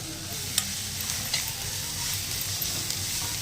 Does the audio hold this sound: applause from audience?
no